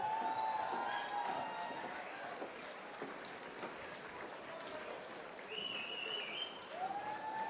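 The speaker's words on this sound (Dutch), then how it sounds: "Geef ze een goed applaus." Applause rises from a crowd at a Dutch court ball, a soft, distant patter of clapping that stays steady throughout, with brief tonal sounds over it.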